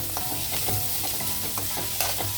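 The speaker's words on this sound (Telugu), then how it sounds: "కొంచెం వేడెక్కిందండి, కాలీఫ్లవర్ వేసేస్తున్నాను." Cauliflower fries with ginger garlic paste for a cauliflower and beans curry, a loud, steady sizzle close up with repeated stirring scrapes and no talk.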